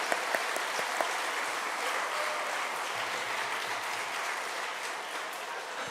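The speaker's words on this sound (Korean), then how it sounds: "우리 성도님들 크게 한번 격려의 박수로 한번 위로할까요?" A church congregation claps loudly and steadily for a youth choir's special song, a dense sustained wash of applause from many hands lasting several seconds.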